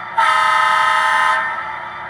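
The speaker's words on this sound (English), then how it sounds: "F2, the horn." A Scale Trains model of a Southern Pacific SD45X locomotive sounds its horn in one loud, steady multi-tone blast of just over a second, then the sound cuts off to quiet.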